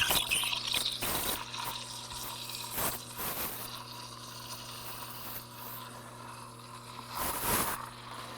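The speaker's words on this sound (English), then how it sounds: "I'm going to extract my espresso and I'm going to steam at the same time." An ECM Synchronika double boiler espresso machine steams milk while extracting espresso, a continuous close hiss and gurgle over a low steady pump hum, with a few louder sputtering bursts.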